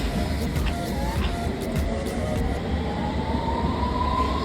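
A train pulling out of a UK station platform, with a continuous loud rumble and rattle of wheels and a rising whine as it gathers speed, close by and with no talk.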